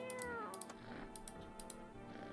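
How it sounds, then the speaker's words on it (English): A cat in No, I'm Not a Human meows a few short times while being petted, with light ticking clicks alongside over a quiet background score. "Pet the cat."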